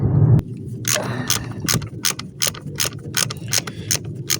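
A high-pressure fuel pump nut is worked into place with a ratchet, giving a quick run of crisp metallic clicks in an irregular rhythm, close up, with a low mechanical hum underneath.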